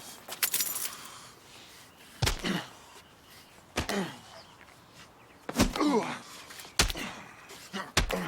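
Keys jangle in a quick metallic burst near the start of a TV drama scene, followed by several heavy thumps and slams spread through the rest, with people talking quietly.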